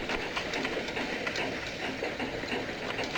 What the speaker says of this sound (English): First trains have shown up.